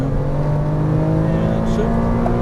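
A Porsche Cayman R's engine drones steadily under throttle through a tight cone course, a continuous close engine tone with someone talking over it.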